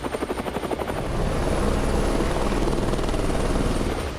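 Apache attack helicopter rotors beating with a fast rhythmic thump over a steady turbine roar, loud and close, swelling as the craft nears.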